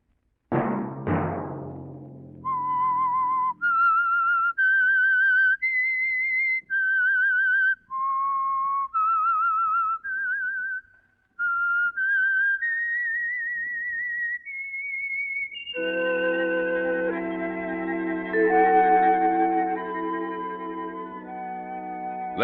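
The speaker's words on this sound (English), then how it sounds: "Let that whistle be your signal for the Signal Oil program, The Whistler" The whistled theme of The Whistler radio program: footsteps at the start, then a lone clear whistled melody of sustained notes, followed by a full orchestral swell, with no talking.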